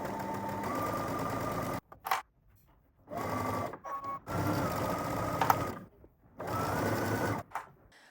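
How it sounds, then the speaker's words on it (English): A sewing machine stitches a fabric tote bag seam in several steady runs of a few seconds each, separated by brief pauses and small clicks, close and clear. "now we're gonna head to the sewing machine, and we're going to stitch all the way around"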